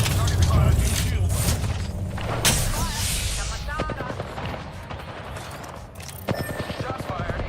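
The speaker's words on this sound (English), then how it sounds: "Shots fired, and they're hitting me." Rapid video-game gunfire in a chaotic online shooter match, dense bursts and booming impacts layered over one another, with game voice lines talking throughout.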